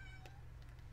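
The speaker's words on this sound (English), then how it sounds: "writing while the cat meows at you." A cat in The Sims 4 video game gives one short, faint meow over a low, steady background hum.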